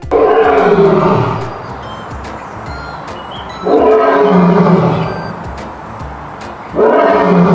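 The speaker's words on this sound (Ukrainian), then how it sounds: "Лев речить. Гррррррр." Three deep, rumbling lion roars, each swelling loudly then fading, separated by quieter pauses with faint ticking in the background.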